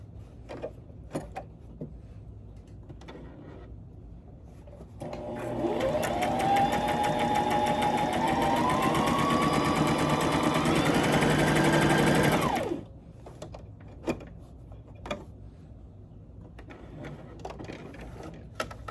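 Brother XM2701 sewing machine stitching a buttonhole, a steady close mechanical whir of rapid needle strokes running for about eight seconds, bracketed by quiet handling clicks before and after.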